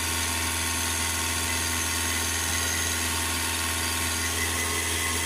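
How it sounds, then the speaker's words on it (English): A car engine runs at idle during a DPF pressure hose check, giving a steady, loud, unbroken drone with constant hum throughout and no voices. "It's a bit loud with the engine running."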